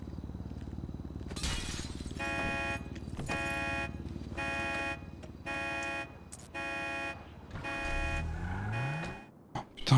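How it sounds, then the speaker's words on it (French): A stolen car in the GTA video game drives along with a steady engine drone, backed by repeated tonal bursts like music or horn toots and a crash near the end. "J'ai juste volé une voiture."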